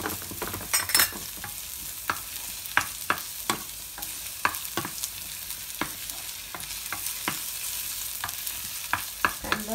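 Garlic and onion fry in a pan while a spatula stirs them, a soft background sizzle broken by a dozen or so sharp, irregular scraping taps against the pan.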